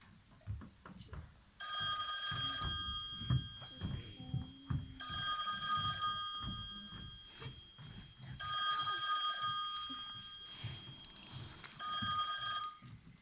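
A telephone bell rings in four loud, evenly spaced bursts, each about a second long, on a theatre stage, with quiet stage movement and low murmuring voices between the rings.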